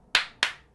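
A pair of bright, close hand claps in quick succession, each with a brief ringing tail, tapping out an eighth-note rhythm alone.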